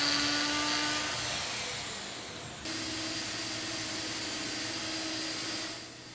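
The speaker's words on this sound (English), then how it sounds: "Now I'm drilling the stretchers" A power drill whines steadily at close range, its pitch shifting slightly as it bites into wood, then tapering off.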